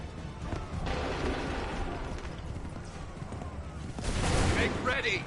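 Musket volley fire in Assassin's Creed III Remastered, scattered booming shots with hoofbeats and battlefield noise, a louder burst near the end, with shouted commands over it.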